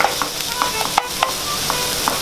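Vegetables stir-frying in a hot frying pan over medium-high heat, seasoned with a pinch of salt for a spicy bolognese: a steady crackling sizzle with small sharp pops recurring through the whole stretch, close and clear.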